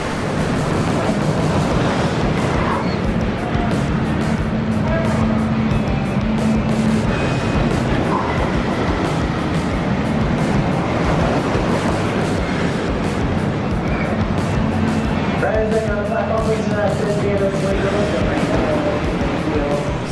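The Wicked Twister roller coaster at Cedar Point produces a loud, continuous roaring rush of wind and track rumble throughout the ride, with occasional voices.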